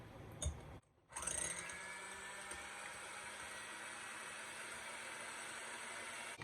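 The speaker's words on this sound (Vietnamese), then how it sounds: "Mình đánh lòng trắng này thì cái máy của mình nó có 6 số." Electric hand mixer whipping egg whites on its second of six speeds for sponge cake, a steady close motor whir after a brief gap near the start, continuous and fairly loud with no talking.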